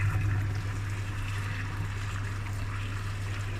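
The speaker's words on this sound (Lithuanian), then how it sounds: "Dabar reikia išpilti vandenuką." Water pouring out of a pot while draining pasta, a steady wash of trickling liquid running continuously at moderate volume with no talk.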